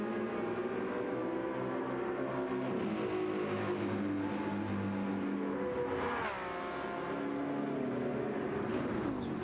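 Race car engines in a sim racing game, Porsche Cup and GR3 cars at Interlagos, drone steadily with a continuous layered hum and one swelling pass partway through, no talk over them.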